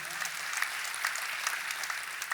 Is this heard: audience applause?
yes